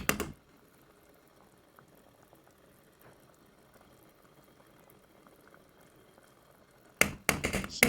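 Tibs stew with added boiling water bubbles on the stove in a steady, soft simmer, with a few faint pops, and louder handling clatter comes at the very start and end.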